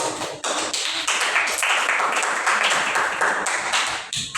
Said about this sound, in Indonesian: Tepuk tangan buat Mas Dono.